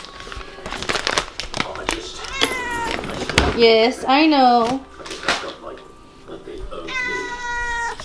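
A pet cat meows repeatedly for a treat, with several loud, close, rising cries and a final drawn-out meow, mixed with a drawer clicking open and a person talking.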